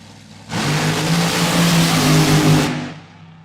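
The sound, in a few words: nitro funny car engine revving before a drag run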